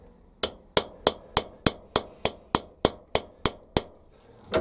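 A piece of high-speed steel is hammered on an anvil with a run of about thirteen sharp, ringing metallic blows at an even, brisk pace, close and loud, with no voices.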